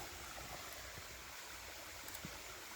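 Water from a blown mine shaft seal rushes and gurgles steadily up out of the ground, a faint continuous broadband wash with occasional small splashes.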